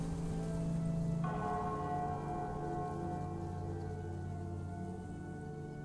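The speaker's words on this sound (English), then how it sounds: "Who does hear that ominous bell toll?" A deep, ominous bell tolls in a sustained, ringing drone with long resonant overtones, loud and steady throughout with no talk over it.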